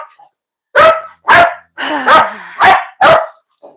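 Repeated loud, close barks from a puppy, five sharp bursts in a steady rhythm with short gaps between them.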